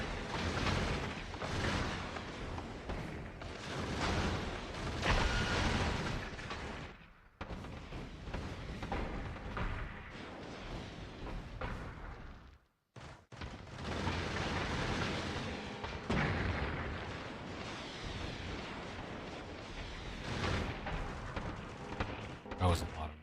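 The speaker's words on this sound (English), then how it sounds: "that was a lot of missiles" Salvos of missiles exploding in Factorio, a dense, sustained barrage of thudding blasts that cuts out briefly twice before resuming at full loudness.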